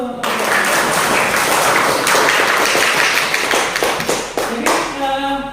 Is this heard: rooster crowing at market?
no